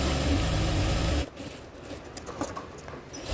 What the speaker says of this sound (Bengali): এরপর ফ্রন্ট পার্টে আমি 2টা সেলাই করব।